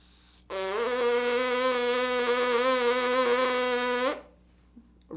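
A player buzzes the lips on the airstream alone as a brass embouchure exercise, producing a steady buzzing tone that holds for about three and a half seconds before cutting off.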